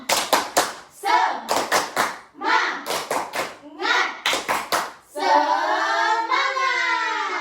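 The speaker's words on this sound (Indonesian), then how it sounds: "Oke, tepuk semangat." Children in an elementary school classroom perform a rhythmic patterned clap chant, sharp claps grouped in quick bursts with short pauses, followed by a sustained sung or chanted vocal phrase from the group.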